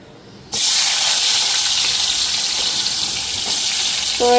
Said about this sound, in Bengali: তো এইদিকে মিষ্টি কুমড় ভাজা বসালাম।